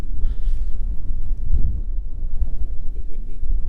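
Strong gusty wind buffets the microphone in an exposed upland car park at Gospel Pass, a continuous low roar rising and falling in loud surges.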